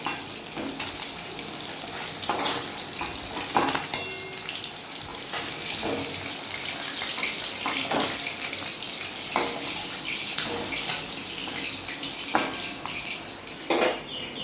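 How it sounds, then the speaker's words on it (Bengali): Catla fish pieces fry in hot oil, a continuous sizzling hiss with intermittent crackles and spatter bursts, steady and close with no voices. "দেখুন আমার মাছগুলো লাল করে ভাজা হয়ে গেছে"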